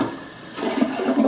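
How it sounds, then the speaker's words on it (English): A toilet in a 1960s Dallas house flushes, giving a short, close rush of gurgling water that swells toward the end, with no voices. "Seems to be flushing fine."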